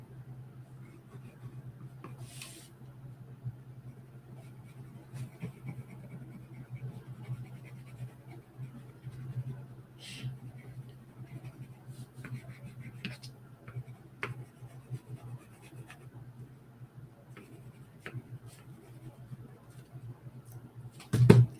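A pencil sketching on paper in a drawing book makes faint, soft scratching strokes over a low steady hum, ending with a sudden sharp knock.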